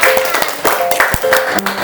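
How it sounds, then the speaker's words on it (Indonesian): A classroom audience applauds as a student group is called up to present, a short burst of clapping mixed with overlapping voices and chatter. "Tepuk tangan."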